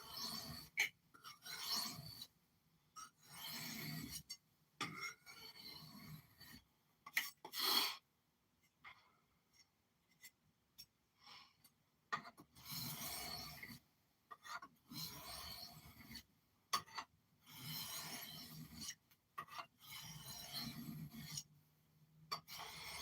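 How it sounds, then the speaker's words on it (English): A knife is drawn across a sharpening stone in short, raspy strokes that come in irregular bursts separated by quiet gaps, close and fairly soft, with occasional faint voice sounds between passes. "it's the sharpening stone that I'm using"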